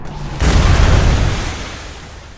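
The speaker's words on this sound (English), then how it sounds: "Only I get to fire the cannons." A ship's cannon fires in the pirate game Atlas, one loud booming blast that swells quickly and rumbles away over about two seconds.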